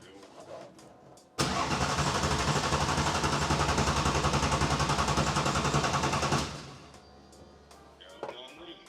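New drift car engine cranks and fires for the first time, roaring loud and steady for about five seconds before being shut off abruptly; brief voices are heard before and after.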